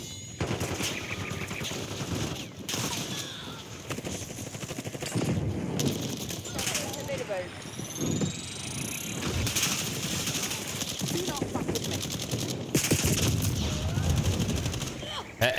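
Rapid automatic gunfire from new weapons in Black Ops 6, including the HDR, Amax, Grau and an SMG, rattles in dense bursts nearly nonstop, loud and close with game effects mixed in.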